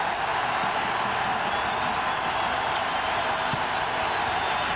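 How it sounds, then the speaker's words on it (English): A dense, steady roar from a football stadium crowd at a 1998 Tennessee versus Alabama college game, sustained and loud throughout without a break. "Crowd was silent after the 2-point play by Alabama. Now they're roaring."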